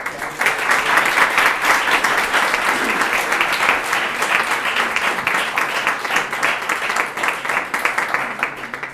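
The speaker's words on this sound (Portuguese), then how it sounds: "eu gostaria de propor uma salva de palmas para todos os debatedores" Sustained audience applause at a Portuguese-language debate tournament final, a dense, steady roar of many hands clapping that holds at full strength for nearly nine seconds before easing slightly at the end.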